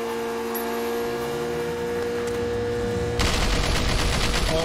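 Car-mounted turrets open fire in Sleeping Dogs, a sudden loud burst of rapid continuous gunfire after a few seconds of steady electrical hum, with no voices.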